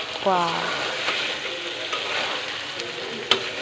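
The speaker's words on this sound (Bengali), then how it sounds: "মাংসটাকে এখন কষিয়ে নিচ্ছি ঢেকে রেখে" Duck meat fries with whole cinnamon, cardamom and cloves in a covered pan, making a continuous close sizzle with faint stirring taps and one sharp clink near the end. A brief voice is heard early.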